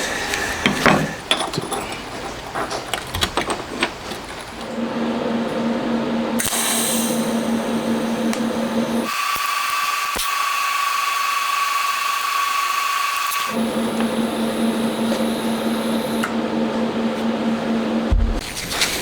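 Welding on a Honda Monkey engine crankcase part, a steady crackling buzz with a tonal whine that runs continuously for most of the stretch, loud and close, with brief tool clatter before and after.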